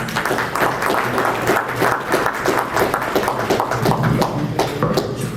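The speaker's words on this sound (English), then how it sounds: "Please welcome on stage Mr. Kirti Rivoriji with a big round of applause." Audience applause at an Indian American business council Gandhi Jayanti event, dense sustained clapping from a crowd filling the room, steady and loud with no voices.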